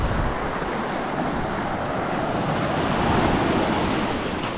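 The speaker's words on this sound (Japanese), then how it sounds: "うわー、海だ" Sea waves washing onto the shore at Hitachinaka, Ibaraki, a steady loud roar of surf mixed with wind buffeting the microphone, continuous and close, with no talking.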